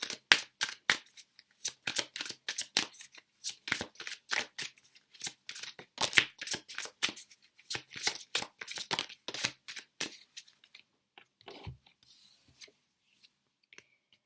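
A deck of tarot cards is shuffled by hand in repeated quick riffles and rustling bursts, close and crisp, steady for most of the stretch before slowing to a few scattered flicks and taps near the end.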